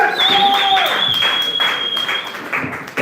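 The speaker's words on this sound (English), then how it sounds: "Clap it up for Emily Sierra." Audience applause at a comedy open mic night, a steady wash of clapping with a thin whistle running over it for about three seconds.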